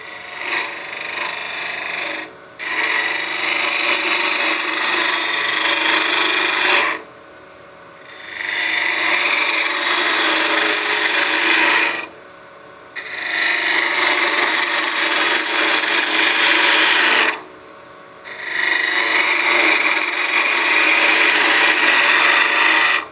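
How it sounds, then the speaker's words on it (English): A dull lathe gouge cuts spinning wood while shaping a witch block head, a loud, raspy scraping hiss. It comes in four long passes separated by brief quiet pauses, close and without talk. "My gouge is getting pretty dull."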